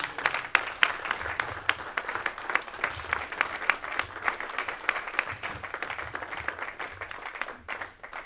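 A church congregation at a French-language worship service applauding, with sustained dense clapping from many hands throughout and a faint murmur of voices underneath.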